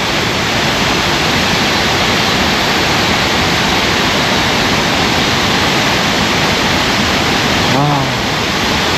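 A loud, constant roar of a waterfall near a cave, broadband and unbroken, with a brief voice surfacing near the end.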